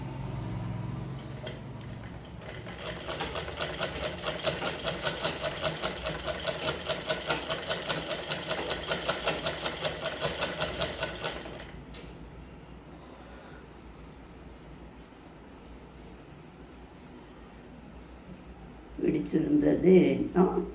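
A sewing machine stitches a small baby mattress cover in a steady, rapid mechanical whir lasting several seconds, then stops, leaving a quiet room before a brief clatter near the end.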